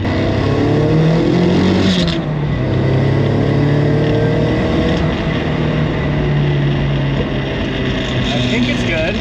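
A Nissan 240SX engine pulls hard under turbo boost, giving a loud, close, continuous roar with rising pitch throughout, and a voice speaks over it.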